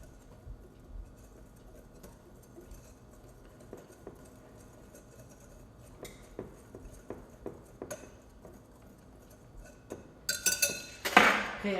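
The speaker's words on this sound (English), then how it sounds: "Whisk that together." Whisk tapping and scraping in a bowl while mixing a seasoning blend with garlic powder, light clinking strokes that quicken and grow louder toward the end, close by with no talking.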